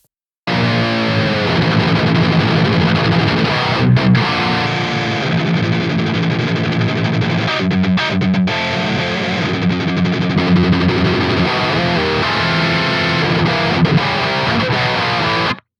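A heavily distorted electric guitar played through an Archetype: Nolly amp tone, thick and chunky chords ringing continuously and loudly with brief pauses between phrases.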